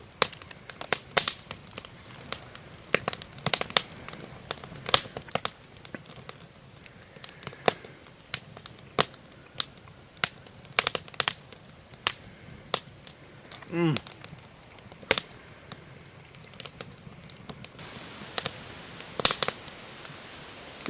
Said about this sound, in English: Nothing I like better than a cool night around a campfire.